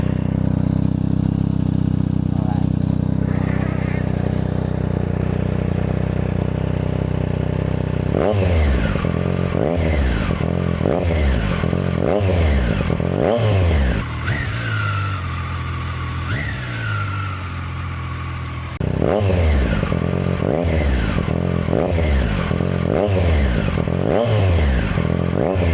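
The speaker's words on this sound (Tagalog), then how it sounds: "Hindi pa natin pwedeng isagad ang rev dahil braking period pa siya." A new 2025 Triumph Daytona 660 motorcycle with a fresh aftermarket exhaust, catalytic converter still fitted, idles and then revs in a series of sharp, rising blips, loud and close, with a pause before more repeated revs.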